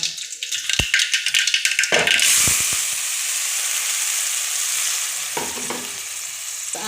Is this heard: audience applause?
no